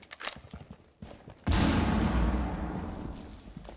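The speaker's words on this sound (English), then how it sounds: "Oh, we threw a frag." A frag grenade going off in a Rainbow Six Siege match: a sudden loud blast follows a stretch of scattered close gunfire clatter, and a long rumbling roar then fades slowly.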